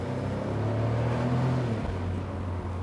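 A Smart Brabus fortwo accelerates hard, its small engine revving loud and steady with a rising drone that drops briefly as it shifts, then pulls on, heard from inside the car.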